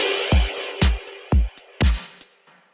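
A drum mix fed through send effects: punchy kick hits paired with snappy snare and hi-hat strikes in a syncopated pattern, each hit trailing a washy effected tail, loud and upfront with no voices.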